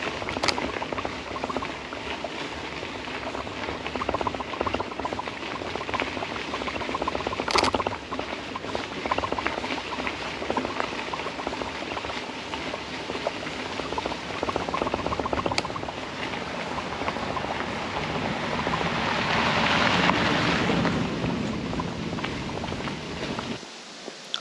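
Water runs in a river at the bottom of a valley on a sunny day during a mountain-pass ride, a steady distant rushing wash with soft crunching footsteps and patter close by.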